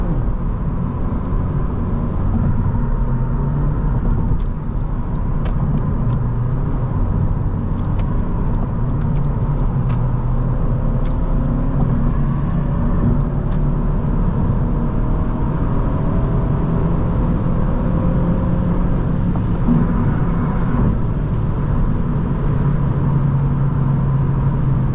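A 2019 Honda Civic Sport with the 1.5-litre turbo and six-speed manual cruising in sixth gear at about 3,200 rpm, heard from inside as a steady, loud engine and road drone that holds level throughout.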